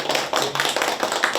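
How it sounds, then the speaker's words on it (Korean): An indoor audience applauds at a round-table event, with steady, dense hand clapping close by and no voices over it. "박수 한번 부탁드립니다."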